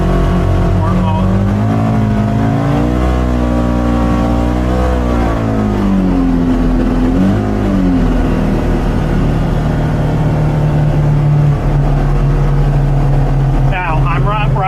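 A Polaris Xpedition ADV 5 Northstar side-by-side accelerates in sport mode on a farm, its loud, close engine revving up and down in rising and falling sweeps before settling into a steady roar, with some talk over it.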